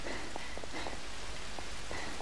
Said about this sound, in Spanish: Madre, qué manera de llover, tío.